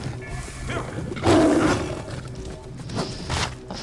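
A lion roars in Assassin's Creed Origins, a loud, growling burst rising in the middle of the clip over game ambience, with some rough snarls trailing after.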